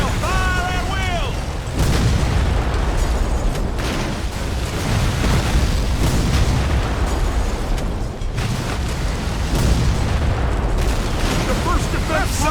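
Cannon fire in a Civil War video game battle, a dense continuous roar of blasts and booms with shouted commands over it.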